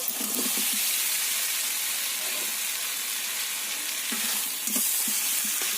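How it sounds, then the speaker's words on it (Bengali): Elephant foot yam and potatoes fry with spices in oil, making a steady close sizzle and hiss with occasional soft stirring scrapes. "মশলাগুলো ওল আর আলুর সঙ্গে ভালো করে কষিয়ে নেব"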